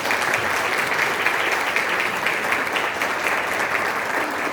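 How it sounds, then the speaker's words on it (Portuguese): Steady, dense audience applause fills a lecture hall on mental health, sustained at an even level throughout with no break and no voices standing out. "Um aplauso para o prefeito, um aplauso para todos nós."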